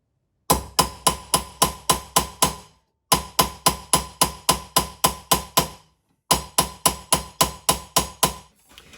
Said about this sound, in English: to put a series of small little hammer marks around, and this will true it up and remove the raising, the marks in here